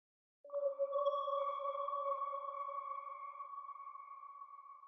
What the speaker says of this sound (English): next thing I used is this random pad, which is from ATL Culture Trilogy by Trifreeze.